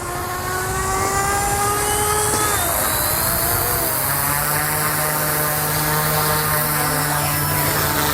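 A Goosky S2 Max RC helicopter lifts off in stabilised mode, its rotor and motor whine loud and close, sliding in pitch as the blades spool up, continuous with no voices.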